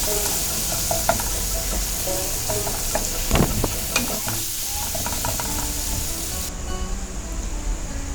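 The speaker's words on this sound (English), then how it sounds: "Saute the masalas well." Haldi and Kashmiri chili powder sautéing in hot oil in a pan for Bengali chholar dal, with a continuous sizzle and frequent close scraping stirs, including a louder clatter near the middle, and no voices.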